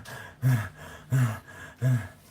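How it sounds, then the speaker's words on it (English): Heavy, labored breaths come up close while someone climbs steps: three loud, evenly spaced breaths with quieter pauses between them, and no talking. "You can hear my breathing."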